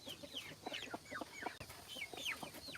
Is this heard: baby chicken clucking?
yes